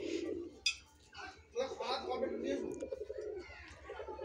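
Pigeons coo in a home loft, soft throaty calls rising and falling close by while a person talks over them.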